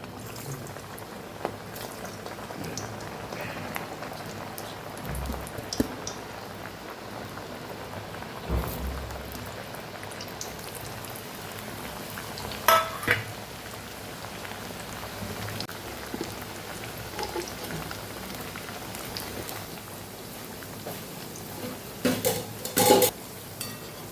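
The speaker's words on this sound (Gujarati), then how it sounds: "સરસ ક્રિસ્પી એવા આપણે એને તળી લેવાના છે" Onion tikki bhajiya frying in hot oil, a steady crackling sizzle with scattered pops and spits running unbroken, close and fairly soft, with no talk.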